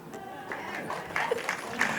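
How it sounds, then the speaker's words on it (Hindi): Applause from the audience for the cast at the Vanvaas trailer launch event, a continuous patter of clapping with a few louder claps standing out, fairly close and steady. "एक बार जोरदार तालियां पूरी कास्ट के लिए, अनिल सर के लिए, पूरी टीम के लिए"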